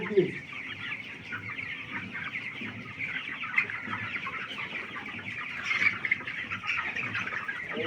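Many chickens clucking continuously close by, a busy chorus of overlapping clucks with a louder squawk near the end; among them a three-legged hen.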